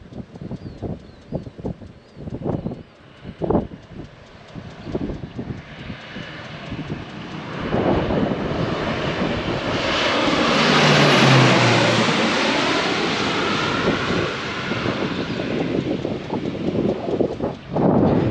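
Crop-spraying airplane passing low over a field while spreading urea fertilizer, its engine drone swelling from faint to a loud, sustained roar overhead before easing slightly, with wind noise throughout.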